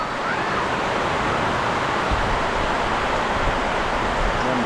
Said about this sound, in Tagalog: walang tigil talaga ang ulan.